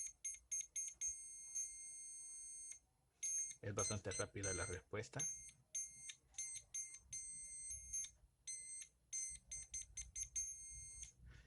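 A homemade continuity tester with an LED and a small buzzer sounds as its probe tips touch, giving repeated high, steady electronic beeps in short bursts and longer tones, while someone talks over and between them.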